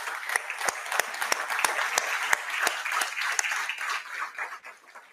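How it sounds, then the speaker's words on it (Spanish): A church congregation bursts into applause, a dense crowd of clapping hands with sharp individual claps standing out, fading toward the end. "Denle un aplauso al Señor."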